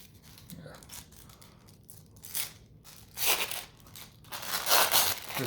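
Parchment paper crinkles and rustles in bursts while a Lorcana starter deck is unpacked, louder toward the end, with a quiet voice in the background.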